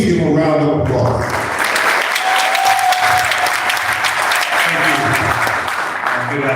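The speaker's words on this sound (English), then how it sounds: "Please give him a round of applause." Loud, dense audience applause for Reverend Mark Jackson at a live special announcement in Miami Gardens, sustained clapping from a crowd that swells after an opening bit of talk and continues for several seconds, with a brief tonal sound partway through.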